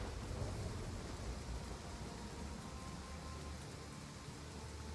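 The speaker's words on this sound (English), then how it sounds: "Oh, it's a storm." A thunderstorm with steady rain in the strategy game Total War: Pharaoh, a constant hiss of rainfall over a low rumble, fairly quiet and even, with no voices.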